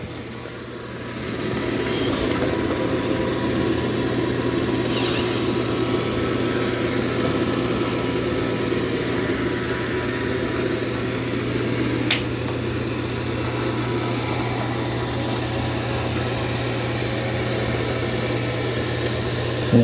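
A Dreame X40 Ultra robot vacuum and mop runs across a kitchen floor, a steady low motor hum and soft whir that holds evenly throughout, fairly quiet and close.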